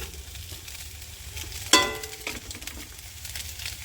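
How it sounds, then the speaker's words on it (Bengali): Chowmein lightly frying and being stirred in a pan with salt for a homemade potato chowmein: a steady low sizzle runs throughout, broken by one sharp clatter of the spatula and a softer scrape, with no talking. "চাউমিনটা আমি দু তিন মিনিট একটু হালকা করে ভেজে নেব"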